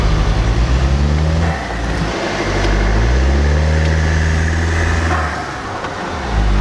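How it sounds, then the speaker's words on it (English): A brand-new VW's engine revs hard and holds a loud, steady drone while pushing a stuck Honda, the pitch rising and falling through several surges of throttle up close. "We're gonna try and push the Honda with the brand new VW."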